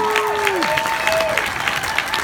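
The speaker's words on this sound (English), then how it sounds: "let's do a round of applause for Rachel!" Dense, sustained applause from a theatre audience at The Rio Theatre in Vancouver after a Q&A, a steady wash of clapping with a voice or two calling out over it.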